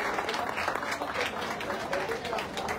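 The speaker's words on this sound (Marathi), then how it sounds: "जोरदार टाळ्या या आयोजकांसाठी" Audience applause for event organizers, a dense steady clapping from a crowd that fills the whole stretch at even loudness, with a voice faintly under it.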